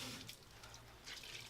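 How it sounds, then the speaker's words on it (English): Water running from a bathroom tap over a washcloth being wetted at a sink, a steady close hiss and splash with brief swells in flow, heard alone without talk. "So I'm getting my washcloth wet"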